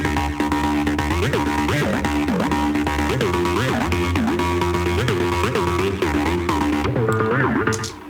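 Choppy, plucky synthesizer patch played in Bitwig Studio inside a full music production mix, repeating short plucked stabs over sustained tones, loud and continuous with no talking.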